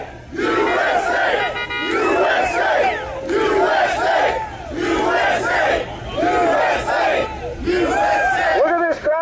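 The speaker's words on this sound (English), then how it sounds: "Look at this crowd we got here. We got a huge crowd out here" A large political rally crowd chants "USA" in unison, loud and close, with rhythmic repeated bursts of many voices roughly every two seconds, sustained throughout.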